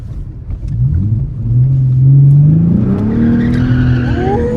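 At a Friday night car meet, a car slides with loud, sustained tire squeal and rising engine roar, the skid whine sweeping upward over a rumbling exhaust, close and continuous.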